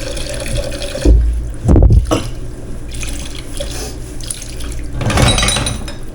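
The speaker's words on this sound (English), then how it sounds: "we need to add about 1 inch of water in our roasting pan" Water poured from a tap or container into a roasting pan, with a couple of loud splashing bursts near the start and again toward the end over a steady running-water background.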